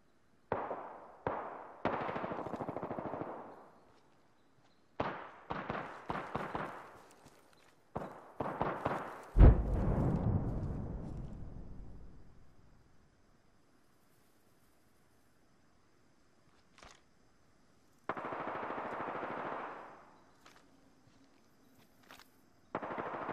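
Bursts of gunfire in the battle royale game Apex Legends, several rapid volleys in quick succession followed by a long rumbling decay, then quiet and another burst near the end.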